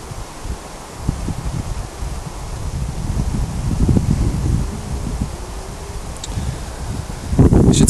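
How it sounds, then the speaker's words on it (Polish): Wind gusting across a mountain summit, a steady broad rustling roar that swells in the middle and rises again toward the end, with no voices. "Czasami tutaj zagląda wiatr. I czasami możesz słyszeć jakiś szum."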